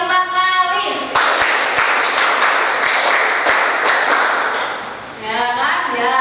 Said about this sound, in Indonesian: Ya, tepuk 25 kali.